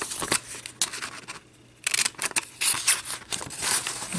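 Scissors cut through paper for a handmade tag, several crisp snipping bursts up close with a brief pause in the middle.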